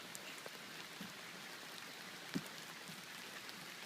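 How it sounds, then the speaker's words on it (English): Steady rain falling outdoors, a faint, even hiss of drops with one soft knock partway through. "It's gonna rain all day."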